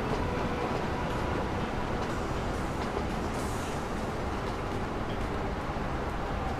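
A freight train in the railway simulation game Train Fever rolls into a station, giving a continuous loud rumble of wheels and wagons with faint rail clatter and no pauses.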